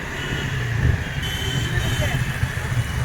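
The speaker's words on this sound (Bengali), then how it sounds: "বাইকের মতো আমাদের গাড়িও যাচ্ছে স্পিডে" A car travelling at speed through city traffic at a busy four-way crossing under a bridge in New Town, Kolkata, with a steady engine and road rumble throughout and a voice talking over it.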